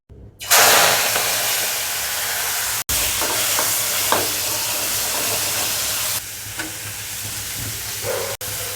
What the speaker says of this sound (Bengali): চিংড়ি মাছ ভাজার জন্য এই তেলটা